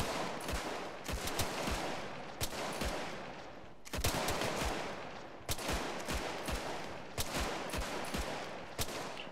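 A light machine gun fires in a military shooter game, repeated bursts of sharp, booming shots with echoing tails, punctuated by louder close reports, continuous throughout.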